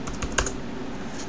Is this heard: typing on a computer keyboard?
yes